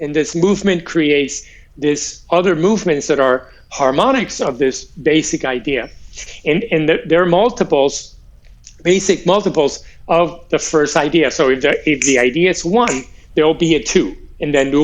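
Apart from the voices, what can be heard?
No everyday noise stands out behind the speech.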